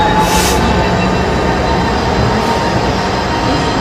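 Class 66 diesel freight locomotives departing Ipswich station on the Great Eastern Main Line, heard as a loud, steady, continuous rumble that fills the whole stretch without a break.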